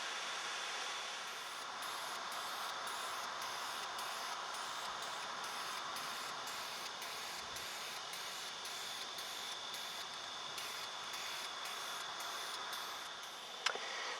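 Black spray paint hisses steadily onto a car brake booster, a continuous soft airy spray with faint regular pulses and no talking.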